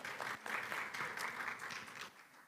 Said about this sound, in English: let's give a warm round of applause for Wire Barley